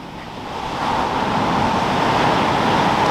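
Ocean waves surge and break steadily on a sunny Dorset beach between Eype and West Bay, a continuous broad wash of surf that swells louder after the first second, with wind buffeting the microphone and no speech.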